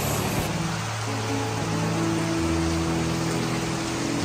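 Steady heavy rain pours down without a break, a dense hiss with a faint low hum underneath.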